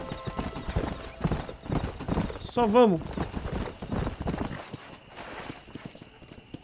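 Horses galloping in a race in the Western video game Red Dead Redemption, a steady clip-clop of hooves with a whinny partway through, while players talk excitedly over the hoofbeats.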